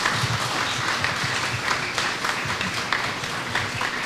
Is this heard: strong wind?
no